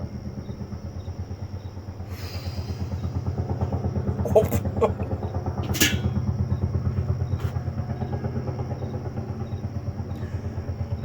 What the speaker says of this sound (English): I've never heard a train like that before.